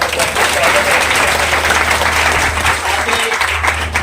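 Loud audience applause in a hall during a memorial poetry gathering in Udaipur, a dense sustained roar of clapping with a low hum underneath and faint voices mixed in.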